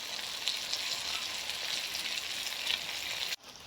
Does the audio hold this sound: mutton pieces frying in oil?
yes